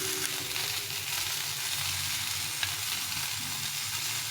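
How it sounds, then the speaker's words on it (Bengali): Vegetables frying with salt and turmeric spice water in a pan for a fish curry give a steady, close hiss and crackle that runs evenly throughout with no talking. "এটা দিয়ে ভালো করে ভেজে এইভাবে সবজি সবজিটাকে ভালো করে ভেজে নেব"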